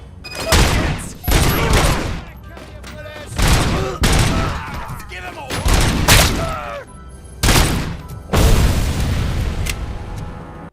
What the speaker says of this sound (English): 머리통 터지는 소리가 그냥 제대로 들리네 그냥